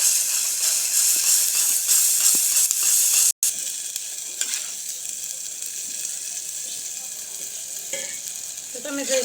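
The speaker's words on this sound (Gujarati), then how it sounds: "તો તમે જોઈ શકો છો આપણે સરસ રીતે ટમેટાં બધું મસાલાની ચડી ગયું છે।" Tomatoes cooked down with turmeric and garlic chili masala fry in a pan for a gathiya curry, giving a loud, steady, close sizzle and hiss with a brief break partway through and no speech.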